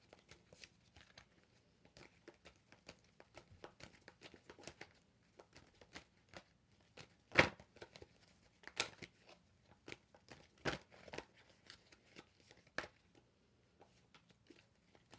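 Tarot cards are handled and drawn during a reading: soft, scattered taps, flicks and rustles of cards at a quiet level, with a few sharper snaps standing out, and no talk.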